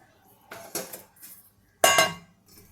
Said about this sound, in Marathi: आता याच्यावर मी ठेवणार आहे तेलाची कढई